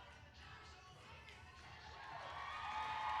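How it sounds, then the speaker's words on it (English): Crowd at a cheerleading championship cheering during a dance routine, a broad wash of voices and shouts that swells louder toward the end, with a faint rhythmic beat underneath. "Crowd loves it."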